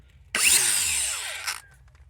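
DeWalt Atomic DCG402 cordless die grinder spinning up to full speed at about 11,000 RPM, a loud steady high whine that starts abruptly, holds for over a second and then winds down.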